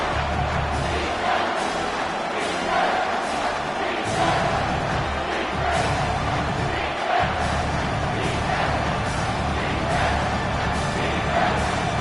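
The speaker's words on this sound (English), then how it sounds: "this crowd is bringing down the house" A roaring stadium crowd in a college football video game, Notre Dame against Georgia, swells loud and steady for the whole stretch with rhythmic surges of cheering and no talk over it.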